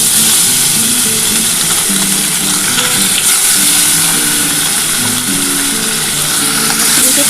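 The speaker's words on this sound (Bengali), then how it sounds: "মাছগুলো একটা একটা করে ভেজে নিচ্ছি।" Bhola fish fry in hot oil, a loud, constant sizzle that stays close and unbroken throughout with no talking.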